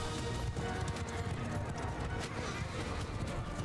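Cavalry horses gallop in a Mount & Blade II: Bannerlord battle, a dense, continuous drumming of hooves mixed with clashing noise and a faint murmur of voices, loud and close throughout.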